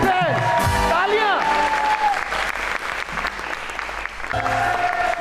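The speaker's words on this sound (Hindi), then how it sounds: "तालियां" Studio audience applause on a Pakistani television talk show, loud and sustained throughout, with a brief musical sting or tonal effect near the start and again near the end.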